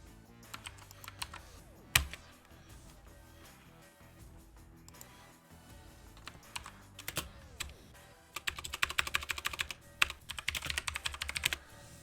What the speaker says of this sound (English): Excuse my typing noises.